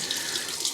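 Water running from a sink tap while rinsing off after a shave, a steady close hiss of flowing water heard alone.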